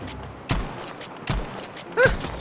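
Three heavy gunshots ring out in Battlefield V, spaced under a second apart, each a loud blast with a short tail over quiet game ambience.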